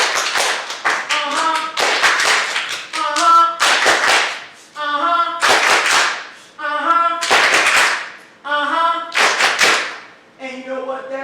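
An audience at a poetry read-out claps together in a steady heartbeat-like pulse, bursts of sharp claps separated by short pauses, with a sung or spoken voice weaving between the bursts.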